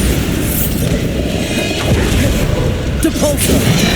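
A Bombarda blasting spell goes off in the Hogwarts Legacy video game, a loud booming burst rising over dense, continuous low rumbling combat noise, with other spell effects crackling around it.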